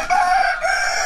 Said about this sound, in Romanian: A, uite, cântă cioșii mei